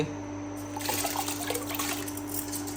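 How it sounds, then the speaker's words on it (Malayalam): Water heating to a boil in a rice drainer pot on a stove gives a steady, soft bubbling and rushing hiss, fairly quiet and continuous, with no voices. "അപ്പോൾ വെള്ളം തിളക്കുന്നുണ്ട്, ഏകദേശം തിളച്ചായിട്ട് വന്നിട്ടുണ്ട്"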